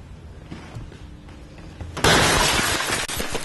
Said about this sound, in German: Es werden weniger als 4 Sekunden benötigt, um die Scheibe einzuschlagen, die Wertsachen zu ergreifen und zu fliehen.